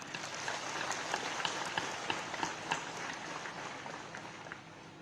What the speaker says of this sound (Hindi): आज तालियों की गड़गड़ाहट से प्रधानमंत्री जी का हम लोग धन्यवाद ज्ञापन करें